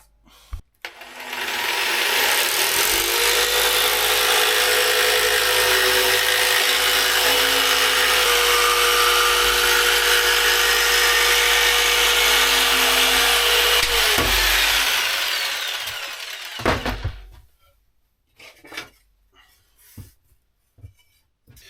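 A power saw cuts through wood during a major repair of a Mirror dinghy, a steady loud rasping whine running about thirteen seconds before stopping, followed by a few faint knocks and handling sounds.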